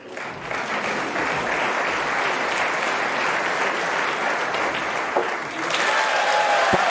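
A packed Crucible snooker crowd at the 2023 World Championship applauds loudly and steadily, broadband clapping sustained throughout and swelling slightly near the end.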